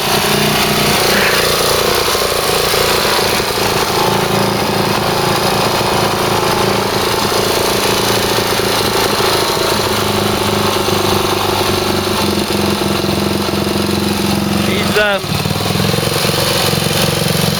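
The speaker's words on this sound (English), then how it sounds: "it hasn't run for years, but it runs very, very quietly. It's a lovely quiet motor." A 1978 Suzuki DR370C project bike's single-cylinder engine running close and loud, a steady dense chugging drone throughout with a brief rise in revs near the end.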